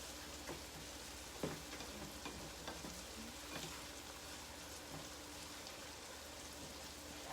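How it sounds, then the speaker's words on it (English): Onions, red onion, green onion and garlic sautéing in a pan for jerk sauce, a quiet, continuous sizzle and crackle with occasional soft stirring clicks and no talking. "We're just sauteing it just a little bit."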